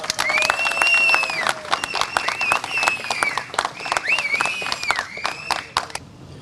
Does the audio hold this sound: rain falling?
no